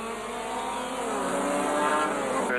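Sports cars racing around the damp Teretonga circuit at a Southland Sports Car Club meeting, a loud continuous engine drone with shifting pitch as the cars pass close by, no voices.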